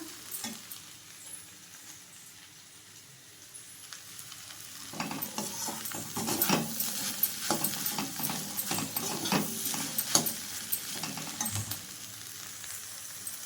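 Egg poriyal sizzles in a pan on a gas stove turned down to a simmer, with a soft, steady frying hiss and close scraping and stirring strokes that grow busier partway through.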